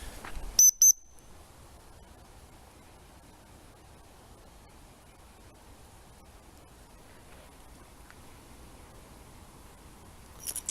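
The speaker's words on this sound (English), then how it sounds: "And then two whistles should mean come back." Two short, sharp whistle blasts from a dog whistle, used to recall a Springer Spaniel on an outdoor walk, sound close together near the start, followed by a long stretch of quiet outdoor hiss.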